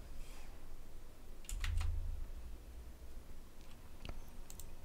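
A few short, soft bursts of typing on a computer keyboard, quiet clicks separated by pauses against a faint background hiss.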